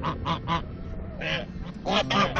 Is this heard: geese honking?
yes